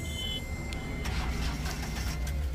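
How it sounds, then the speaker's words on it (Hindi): Ashok Leyland Dost pickup with a pickup-drop fault, cranked over again after fault codes were cleared, catching and settling into a low idle rumble, with a faint electronic tone at first and some clatter on top. "गाड़ी तो हमारी स्टार्ट हो गई है"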